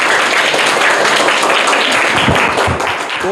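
Loud, steady applause from an audience at a Mumbai school quiz competition with government school children, sustained throughout, with faint voices near the end.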